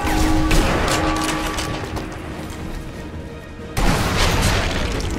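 A loud grenade blast in the WWII sniper shooter Sniper Elite V2, followed by a decaying rumble and then a second sharp boom near the end, with no speech.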